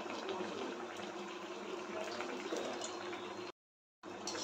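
Mango pitha batter balls frying in hot oil, a steady close sizzling and bubbling hiss that runs continuously, broken by a brief silent gap near the end.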